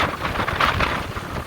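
Hurricane Sally's strong winds on Dauphin Island, Alabama, blowing hard as a rough, gusty buffeting roar across the microphone in a short burst, with no other sounds.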